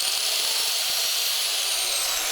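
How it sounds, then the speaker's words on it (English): Corded angle grinder running off a Growatt Vita 550 power bank, a steady high-pitched motor whine held at constant speed, loud and close with no talking. "This is an angle grinder."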